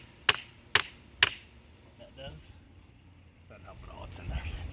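Three sharp hammer taps on a wooden fence post in quick, even succession, followed by someone talking quietly.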